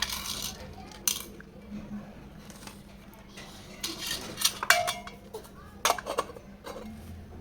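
A toy pot and spoon clatter during a child's pretend cooking game: scattered light metallic clinks and taps in uneven bursts, close by, with soft background noise and no clear talk.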